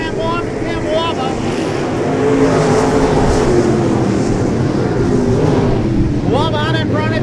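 Midwest Mod and Super Stock race cars roar around the oval at Casino Speedway, a steady loud engine drone with a swelling pass midway, under a track announcer's continuous commentary.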